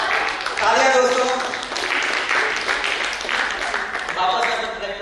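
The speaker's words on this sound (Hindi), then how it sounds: "तालियां दोस्तों।" A studio audience at a Hindi talk show breaks into sustained, fairly loud applause that swells and rolls on for several seconds, with some voices mixed in.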